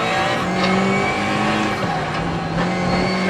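1992 Lancia Delta HF integrale EVO rally car engine on the Rallye de France-Alsace stage, a loud close engine drone at steady high revs with brief shifts in pitch, heard from inside the car.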